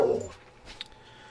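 Dogs in a kitchen make a short, soft whimper, followed by a faint click and quiet room noise.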